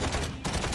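Rapid mech gunfire from the Mech Arena game, a dense, loud burst of overlapping shots lasting under a second with a short dip in the middle.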